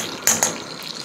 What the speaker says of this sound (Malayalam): ചീനച്ചട്ടി വെച്ച് നമ്മൾ ഒരു ടീസ്പൂൺ അളവ് നെയ്യ് അങ്ങോട്ട് ഒഴിക്കുകയാണ്